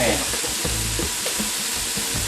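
Shrimp with about a clove of chopped garlic frying in a hot pan, a steady loud sizzle with bursts of crackle and spatter running continuously throughout, close up and with no talking.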